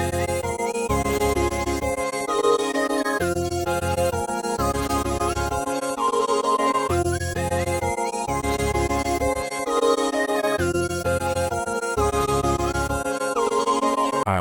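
Synth melody built in FL Studio, chopped into eighth-note triplet pan patterns with phaser and delay effects, bouncing in a steady repeating loop over deep low bass hits, loud and continuous.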